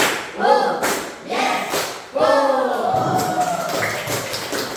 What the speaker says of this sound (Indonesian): Tepuk 1, tepuk 2, tepuk 3, tepuk 1, 2, 3